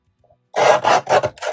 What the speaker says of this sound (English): I'll just trim off the bottom a little bit more.